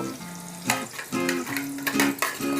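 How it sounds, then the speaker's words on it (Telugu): Green chillies frying in a hot pan for a Telugu fish curry (chepala pulusu), giving a steady close sizzle broken by a few sharp clinks and stirring scrapes of a utensil against the pan. "7-8 పచ్చిమిరపకాయలను కూడా వేసుకోవాలి. ఇవి కూడా వేపుకోవాలి."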